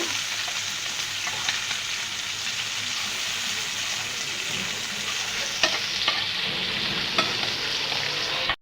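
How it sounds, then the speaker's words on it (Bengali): Small meni fish frying lightly in a pan, a steady close sizzle with occasional stirring clicks and scrapes throughout, no talking. "মাছগুলো হালকা করে বেজে নেব"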